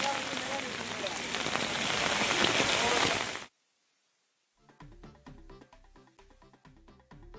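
Heavy rain pours steadily in Chennai, a loud dense hiss for a few seconds before it cuts off. After a short silence, quieter rhythmic sounds follow.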